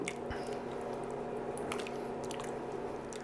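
Pot pie soup being stirred in a pot after corn and chopped parsley go in, giving soft wet squishing and scraping sounds over a steady simmering hiss, close and continuous.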